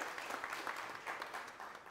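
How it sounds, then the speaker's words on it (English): Steady audience applause at a conference panel session, a dense patter of many hands clapping at moderate volume, continuing without a break for a couple of seconds. "Let's give a giant round of applause to Justin Pekarek and the rest of our awesom"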